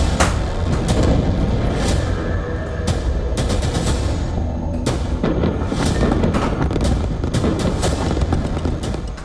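Loud, repeated booming blasts and crackling bursts of gunfire-like explosions from a war zone, striking in irregular clusters over a dense rumbling roar that never lets up.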